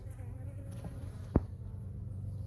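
A steady, close buzzing of many honeybees in a hive during a queen introduction, interrupted once by a short sharp click.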